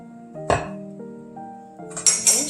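Grits are served from the pot into a bowl, with a few sharp metallic clinks and scrapes of a spoon against cookware, then a brighter burst of clattering near the end, close and without talk.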